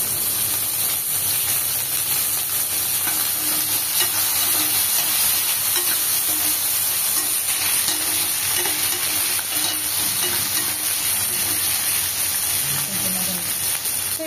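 Thinly sliced medium onion and green chillies sizzle steadily in a pan for mutton biryani, a loud, even frying hiss that runs continuously without pause.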